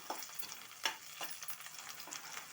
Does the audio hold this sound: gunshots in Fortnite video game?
no